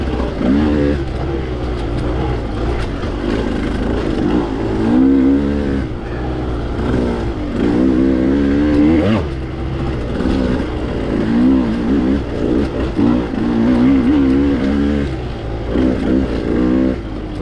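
Motorcycle engine on a cross-country (XC) race lap over rocky terrain, revving and rising and falling in pitch continuously throughout, loud and close with steady wind and rumble.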